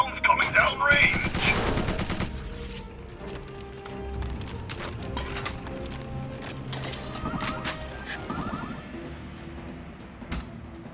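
Gunfire rattles in the Tiny Metal: Full Metal Rumble strategy game, with bursts of shots and clattering effects over busy in-game sound, fairly loud and mixed with brief voiced lines.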